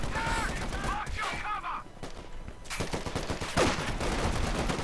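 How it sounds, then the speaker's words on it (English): Machine gun bursts rattle in a Company of Heroes 2 World War II strategy match, with short, fairly distant rapid volleys under steady commentary and other game effects. "Nicko has suppression from the MG out of the base"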